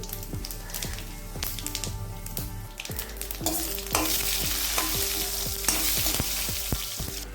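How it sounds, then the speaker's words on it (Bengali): Bay leaf, dried red chili and cumin seeds sizzle in hot oil in a kadhai, with a steady crackling fry broken by rhythmic stirring clicks and a louder hiss surge midway. "এবার আমি একটা কড়াইতে একটু তেল দিচ্ছি এবার দিয়ে দিচ্ছি তেজপাতা শুকনো লঙ্কা আর দিয়ে দিচ্ছি জিরে"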